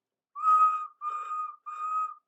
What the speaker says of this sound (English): He whistled, "There's Mrs. Kindly," and happily rang his bell